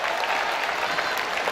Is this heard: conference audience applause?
yes